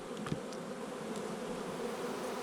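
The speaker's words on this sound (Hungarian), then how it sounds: "A méhek áthordják az eleséget" Honey bees hum steadily inside a beehive during an apiary year, a dense continuous buzz with a few individual bees droning close by, no voices.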